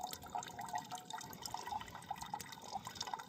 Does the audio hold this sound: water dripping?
yes